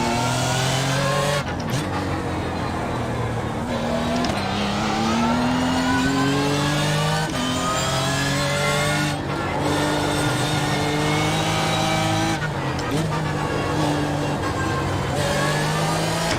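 BMW GT3 race car in the iRacing simulator at Okayama, its engine revving loudly and continuously with repeated rises and sharp drops through gear changes, near and steady throughout.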